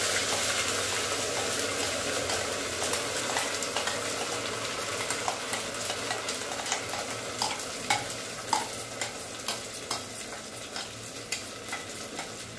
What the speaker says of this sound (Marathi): हे दोन्ही वाटण जरा तेलात आपण परतवून घेऊ